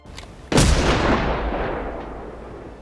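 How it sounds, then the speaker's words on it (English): A gunshot from the 1991 film Boyz n the Hood, a single sudden, very loud blast followed by a long, rumbling reverberant tail that fades over about two seconds. "In Boyz n the Hood, the gunshot scenes hit hard. They are loud, sudden, and emotionally jarring."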